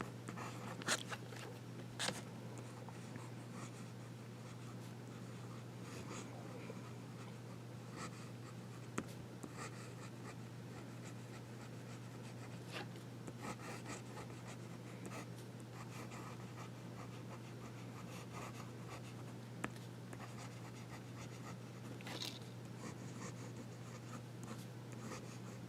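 Medium nib of an Esterbrook Estie fountain pen scratching softly across paper, steady continuous writing strokes with small loops, close and quiet over a low background hum.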